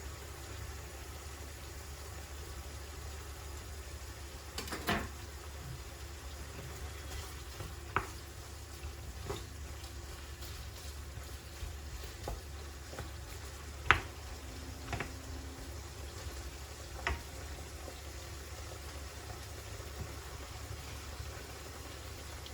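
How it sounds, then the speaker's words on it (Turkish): Meat sizzling steadily in a pan for fajitas, with garlic cloves added, a continuous low hiss and crackle and a few sharp utensil clicks scattered throughout, nothing spoken. "Etimiz pişmeye devam ediyor."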